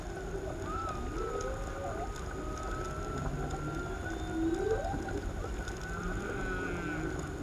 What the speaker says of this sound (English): you can sometimes hear whales